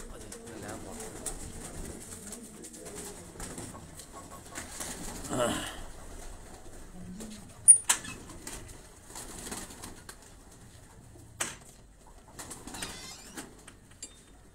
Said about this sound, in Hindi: ये परवाजी कबूतर हैं, जोड़ों वाले नहीं हैं।